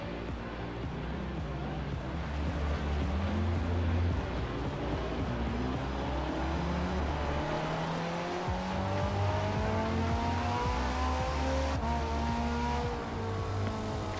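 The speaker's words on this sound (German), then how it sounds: "Klingt so ein bisschen nach Ferrari 430 Scuderia." A Ferrari engine, resembling a 430 Scuderia, in the racing video game Forza Horizon, droning steadily and loudly throughout with rising and falling rev sweeps, alone with no talk.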